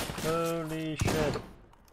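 A single sharp bolt-action rifle shot cracks out in Insurgency Sandstorm, loud and close, with the game's battle sounds and a voice before it.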